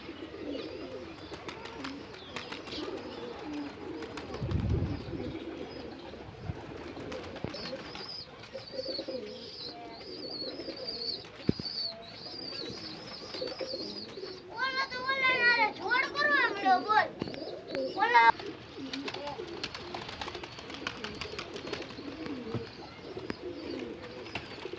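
Domestic pigeons coo softly in a loft, low repeated coos under someone talking nearby, with children playing in the background.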